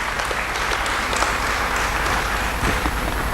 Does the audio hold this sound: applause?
yes